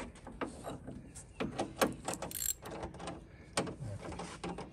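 A nut driver tightens a nut on a Jeep Gladiator tonneau cover, giving quiet ratcheting clicks, scrapes and knocks in irregular bursts up close, with soft voices in the background.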